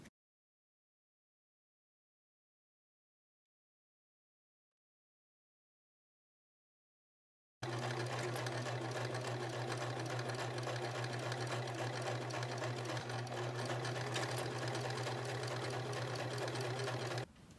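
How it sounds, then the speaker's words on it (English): A sewing machine joins fabric strips at an angle, starting suddenly after a long silence and then running steadily and evenly at close range without pause until the end. "I sew the strips on at an angle to create less bulk"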